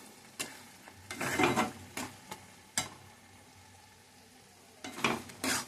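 Palak chicken with fresh cream is stirred in a pan, a few bursts of scraping and mixing with soft sizzling between them, close and fairly quiet.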